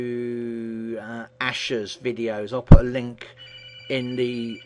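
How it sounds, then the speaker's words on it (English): A telephone rings with a steady, tonal electronic ring behind a voice talking, the ring sustained through most of the moment and fairly prominent. "sorry about that phone call"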